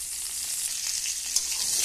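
Cubed potatoes hit hot oil already crackling with five-spice, a dried red chilli and bay leaf, for a vegetarian mixed vegetable curry. A steady, close sizzle holds throughout with a small pop near the end, no voices.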